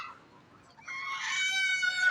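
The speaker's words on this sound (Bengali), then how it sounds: "এই দেখেন তিনটা মুরগি ধরলো" Native chickens on a farm deep in the Malaysian jungle, with a single rooster-like crow rising after a quiet start, fairly close and clear, with no talking.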